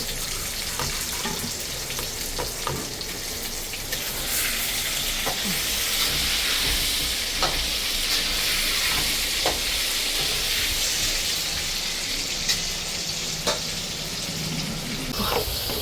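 Biryani ingredients sizzle steadily in a hot wok while a utensil scrapes and stirs in occasional clicks, a close, continuous frying hiss.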